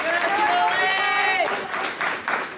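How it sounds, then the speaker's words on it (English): Audience applause for Julie Davenport at a political event, a steady wash of clapping across the whole stretch with a whistle or cheer rising through the middle and voices mixed in. "Let's give a round of applause for Julie Davenport"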